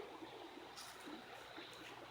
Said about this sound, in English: There's still water flowing